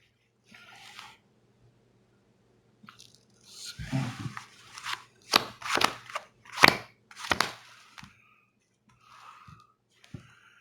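Quick bursts of riffling playing cards, several rapid snapping shuffles in a row, close and fairly loud, with short quiet gaps between, a cheating shuffle in poker.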